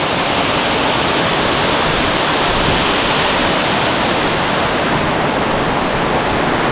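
A steady, roaring rush of a waterfall near Asud village in Konkan fills the whole stretch, dense and constant with no pauses and no voices.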